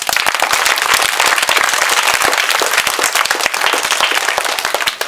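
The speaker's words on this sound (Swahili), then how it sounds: "Tumpigie makofi tena." A school audience claps after a child's poem recital, a dense, lively patter of many hands that stays loud and even throughout.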